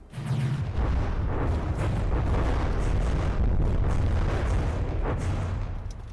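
Missile explosions in the combat game From the Depths make a loud, sustained roar of overlapping booms and rumbling blasts for several seconds, with no speech.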